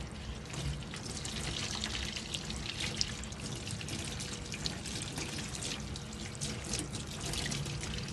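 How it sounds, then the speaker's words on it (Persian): A shower runs steadily over a head of hair as shampoo is rinsed out, a continuous close spray and patter of water with no speech. "دوباره زیر دوش آب به همون شکل در یک جهت انگشتتون رو میکشید تا تمام کف رو خارج بشه"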